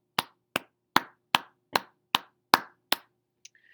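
Eight sharp, evenly spaced hand claps marking a steady eighth-note count, loud and dry with no talking, followed by a faint electronic blip.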